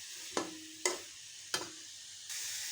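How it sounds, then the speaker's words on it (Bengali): Curry sizzling and frying in a pan while stirring is heard, with three sharp bursts of hiss as water goes in, then a steady loud sizzle at the end; no talking. "এই এখন জল দিয়ে দিয়েছি"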